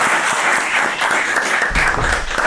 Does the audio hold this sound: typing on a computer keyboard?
no